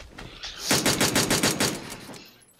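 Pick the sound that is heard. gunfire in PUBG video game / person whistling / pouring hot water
gunfire in PUBG video game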